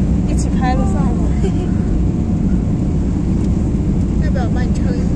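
An airplane descending to land at Urumqi gives a loud, steady cabin engine roar throughout, while people talk over it.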